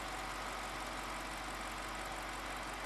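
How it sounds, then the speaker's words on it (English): A 2003 BMW 745i Sport's V8 idles smoothly and quietly, a steady low hum with an even, unchanging tone throughout and no other sounds. "Listen, I mean, the car really idles great."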